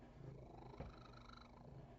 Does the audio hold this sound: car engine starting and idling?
no